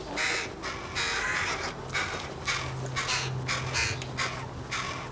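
Young rooks and carrion crows about four weeks old, hand-fed with tweezers, caw in repeated loud, harsh bursts close by, the calls overlapping in a steady begging chorus.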